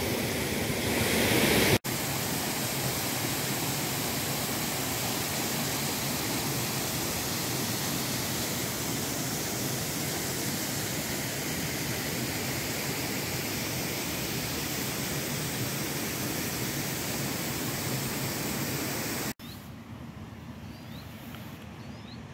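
Waterfall in the Scottish Highlands, a loud, continuous roar of falling water heard close up, steady throughout with a brief break at the start and a quieter stretch at the end.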